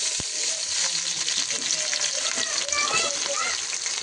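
Onions tipped into hot spiced oil for a rice dish, frying with a steady bright sizzle and crackle throughout, close and continuous, with faint speech in the background.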